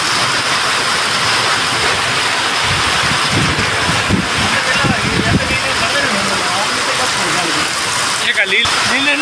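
Heavy rain falls across Mudhol taluk, a dense steady hiss of downpour running throughout, with a voice speaking intermittently over it in the middle.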